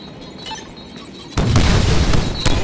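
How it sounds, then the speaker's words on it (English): A grenade goes off in the Deadpool video game: a sudden loud, close blast breaks a quiet stretch, rumbling on with a second burst shortly after. "Grenade!"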